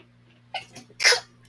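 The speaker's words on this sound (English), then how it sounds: "Oh, I gotta sneeze." A person sneezes once close up, a short sharp breathy burst preceded by a quick inhale, against a quiet background with a low hum.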